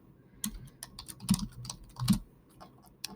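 Keys clatter on a computer keyboard as a name is typed into a Google Doc, irregular close taps in short bursts with a few louder strikes.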